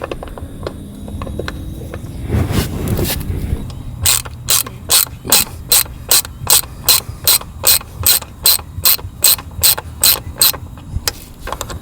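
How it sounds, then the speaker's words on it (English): A ratchet turning a 6mm Allen bit loosens the front engine mount bolt on a Suzuki V-Strom 650 DL650. After brief handling noise, a steady run of about twenty sharp, close ratcheting clicks follows. "remove this front bolt here on this mount, and it's going to require a 6mm Allen."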